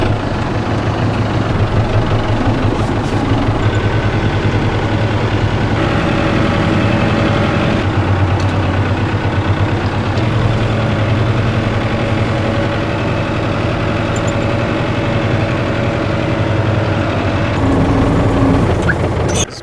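A big farm tractor engine idles steadily for the whole stretch, a loud, even low rumble with a constant mechanical drone and no voices.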